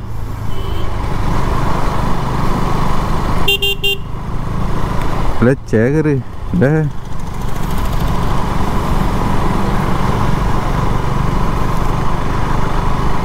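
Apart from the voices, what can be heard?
motorcycle riding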